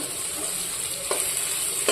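Fish sizzles in hot frying spice paste, a steady close hiss with two sharp scraping stirs near the end.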